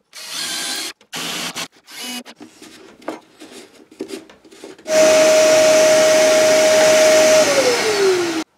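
Bursty mechanical rattling and clatter, then a loud steady drill whine boring a hole in wood holds for a few seconds before dropping in pitch as it winds down.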